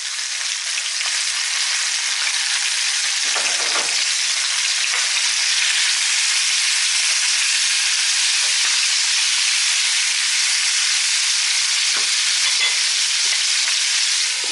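Onion and garlic sizzle steadily in a hot frying pan, a loud, continuous hiss and crackle with small bubbling pops, close and alone without voices.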